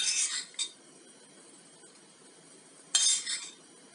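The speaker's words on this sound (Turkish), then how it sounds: "Şimdi bir kabınızın içerisine böyle bir kaşık bırakın." A spoon set into a soufflé bowl gives two short bright clinking contacts of metal on dish, about three seconds apart, with near silence in between.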